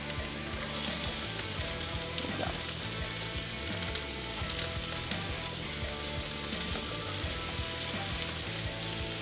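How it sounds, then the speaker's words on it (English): Onions sizzle and crackle steadily in hot oil, a dense, close frying hiss that holds at an even level throughout, with no talking. "This is gonna give me a big sizzle, I know it."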